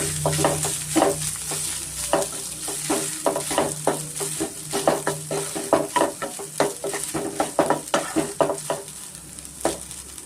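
Rice being stirred and fried with garlic in a pan, a steady sizzle broken by rhythmic scraping and clacking strokes of a spoon against the pan, close and fairly loud.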